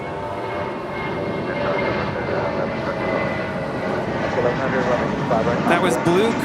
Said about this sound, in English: That was Blue Crew departing to Cancun, JetBlue, flight 1570, a 14-year-old A320.